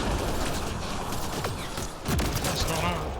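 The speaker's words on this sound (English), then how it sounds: "Shooting the device will destroy it." Video-game gunfire hits an alien Ket device: rapid, dense bursts of shots mixed with metallic mechanical clatter, with a voice speaking underneath.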